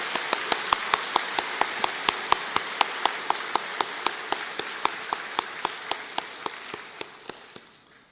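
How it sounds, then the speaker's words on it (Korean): A church congregation at Youngnak Church applauds to bless the children, a dense wash of clapping with steady, evenly spaced claps that slowly fade over several seconds. "여러분 축복의 박수를 우리 마음을 다해서 한번 하겠습니다"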